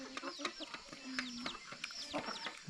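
Chickens cluck repeatedly at close range in a rural Thai village yard, several birds making short, irregular calls over a steady outdoor background. No one speaks.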